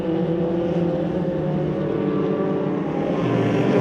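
Race cars crossing the line during the 2022 Aldo Scribante Race 1, a steady loud engine roar that holds throughout with no voices.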